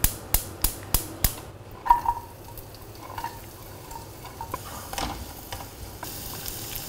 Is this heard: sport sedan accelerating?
no